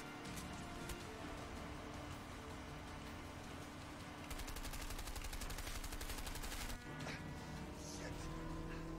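Gunfire in the video game A Way Out, dense rapid bursts of shots under a busy mix of game noise, loudest in the middle stretch.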